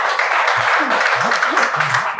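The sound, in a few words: audience applause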